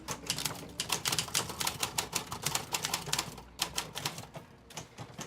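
A Royal No. 5 flatbed typewriter from 1906 being typed on, with rapid, steady clacking keystrokes in quick bursts, close and alone with no voices, pausing briefly midway before the typing resumes.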